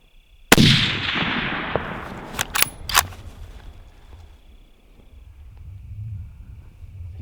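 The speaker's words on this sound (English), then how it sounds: "So I'm gonna shoot him." A single sharp rifle crack goes off close by while hunting mule deer in Idaho, followed by a long rolling echo and a few quick clicks and knocks of handling gear, then quiet outdoor ambience.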